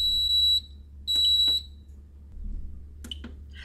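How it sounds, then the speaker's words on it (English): A high electronic buzzer from a fire alarm panel sounds in two steady bursts, each about half a second long, followed by a couple of faint clicks in a quiet room. "The panel buzzer will also operate."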